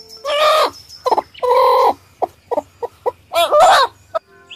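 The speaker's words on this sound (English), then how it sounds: "H for hen." A hen clucks in a series of short, close calls, a few longer drawn-out clucks mixed with quick choppy ones, alone with no talk over them.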